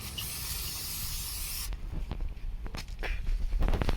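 Brake cleaner sprays onto front brake parts of a 1998-2008 Toyota Corolla as one loud, continuous hiss lasting over a second, then cuts off into light handling clatter and shuffling nearby.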